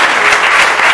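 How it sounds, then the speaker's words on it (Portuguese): Loud, dense applause from a congregation at an evangelical church service, steady and continuous throughout with no break, with no speech heard over the clapping. "dê mais uma salva de palmas"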